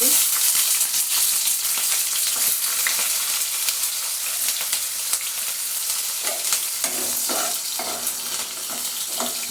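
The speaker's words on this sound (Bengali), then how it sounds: "জিরা ফোড়ন কাঁচা জিরা এখানে দিয়ে দিচ্ছি পেঁয়াজ কুচি" Cumin seeds and chopped onion fry in hot oil for a home-style Bengali pulao, giving a steady close sizzle with occasional stirring scrapes and soft pops, no voices.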